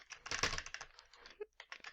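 Quick bursts of clicking keystrokes on a computer keyboard, a fast, irregular, fairly faint clatter with short pauses between runs and no voices.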